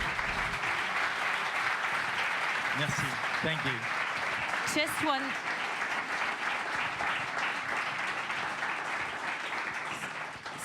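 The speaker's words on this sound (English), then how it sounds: "Mesdames et messieurs, un tonnerre d'applaudissements" A conference audience gives steady, full applause as an Olympic champion is welcomed to speak at CWIN18, and the clapping continues under brief spoken thanks.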